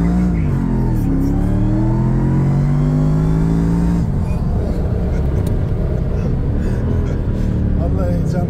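Mercedes-McLaren SLR engine revving with rising harmonic tones, then a rough, loud roar as it accelerates hard, close and continuous, with voices talking over it.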